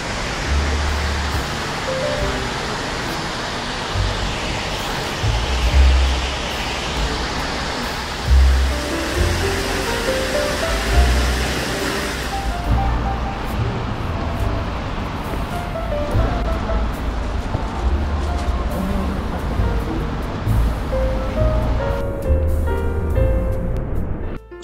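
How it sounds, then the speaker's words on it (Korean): Artificial waterfall on Hongjecheon stream in Seoul, a steady, loud broadband rush of falling water continuing throughout, with low rumbling traffic-like noise underneath in the first half. "홍제천 인공폭포에 도착했습니다."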